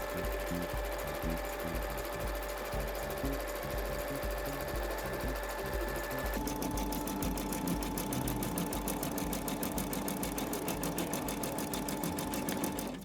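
Embroidery machine stitching the first thread colour of a heart ornament, a steady fast mechanical needle rhythm running the whole time, close and loud, its pattern shifting slightly partway through.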